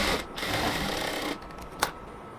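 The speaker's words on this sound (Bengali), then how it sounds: "এরপরে হচ্ছে আমরা উপরের দিকে সেলাই করব" Close sewing machine running on a cotton dress, a continuous buzzing whir that stops briefly, then a sharp click near the end.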